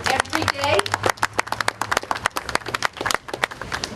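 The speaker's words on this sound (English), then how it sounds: "Give them a round of applause." Outdoor Earth Day anniversary crowd clapping for town council members, a scattered burst of handclaps from a small gathering, close and uneven, with a few voices mixed in.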